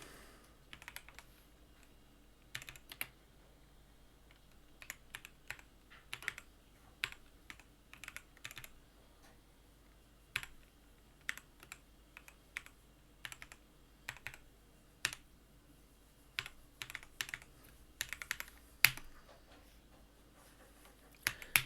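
Someone types a command at a computer keyboard, with scattered bursts of soft key clicks and short pauses between them over a quiet background.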